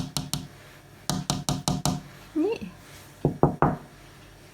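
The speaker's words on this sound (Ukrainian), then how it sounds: "Ну, зараз спробую постукати." Knocking on a surface at a private house to call a cat: two sharp knocks, then a fast run of five, then three louder raps, with a brief spoken word in between.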